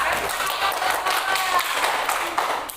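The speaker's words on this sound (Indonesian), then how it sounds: "silakan tepuk tangan untuk Marwa." Classroom of students clapping for a classmate, a dense, steady patter of many hands at close range, continuing throughout without pause.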